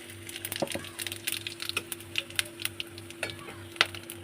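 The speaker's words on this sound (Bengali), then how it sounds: "এবার আমি গোটা গরম মশলাগুলো ফোড়ন দিয়ে দিচ্ছি" Whole garam masala spices tempering in hot oil for a mutton kosha, a busy crackle of irregular sharp pops and spits over a low steady hum.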